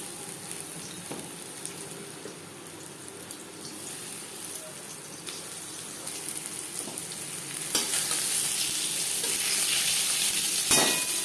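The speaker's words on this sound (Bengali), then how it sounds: "লবণ হলুদ দিয়ে পটল ভেজে নেব" Pointed gourd (potol) frying in a little oil with salt and turmeric, a soft continuous sizzle with occasional stirring taps that grows louder and hissier toward the end.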